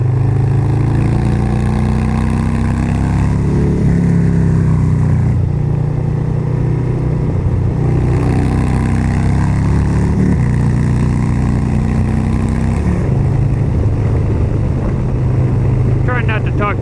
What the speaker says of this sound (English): Trying not to talk too much so you guys can just hear the exhaust.